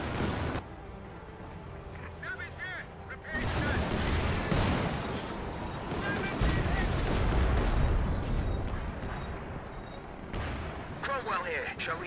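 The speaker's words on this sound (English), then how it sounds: "Coordinated barrage is on the way." Coordinated artillery barrage in Company of Heroes 2 at La Gleize, a rumbling mass of booms and blasts building after a quieter start and rolling on continuously, with distant gunfire mixed in and no voices.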